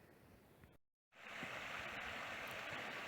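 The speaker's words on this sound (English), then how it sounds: "It's not a very big creek, it's a little creek." A small creek in the South Fork backcountry, an elk area, flows in a steady close rushing wash, broken by a brief dropout before the water noise returns louder and continuous.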